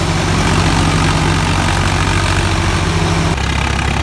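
A tractor engine held at 1600 rpm powers a chaff cutter with a 13-inch feed mouth, giving a loud, steady, close-up drone whose tone shifts slightly near the end.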